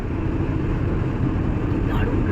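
Car driving along a road, a steady broadband rumble of engine and tyre noise filling the cabin at an even loudness throughout, with no clear speech.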